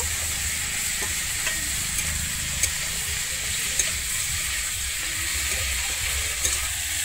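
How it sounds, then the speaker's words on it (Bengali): Cumin and chili powder being stirred into green tomato in a hot pan for a Bengali tomato jhal, a steady close sizzle and frying hiss with a few faint scrapes of the spoon, no talking. "আমি সব কিছু আবার ভালোভাবে মিশিয়ে নেব।"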